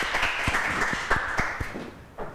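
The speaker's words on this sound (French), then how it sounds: "Sous vos applaudissements, s'il vous" Light applause from a pageant audience greeting a candidate, a patter of claps with a few sharper hand slaps over a soft crowd bed, ending as a voice begins.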